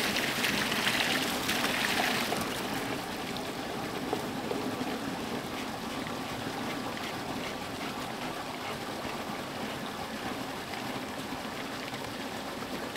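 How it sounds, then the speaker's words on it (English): Steady broadband rush of water pouring from a pipe into a barrel, continuous and fairly close, with a brighter splashing burst in the first couple of seconds before settling into an even flow. "With this much water entering into the barrel, it's not gonna take long before it is overflowing."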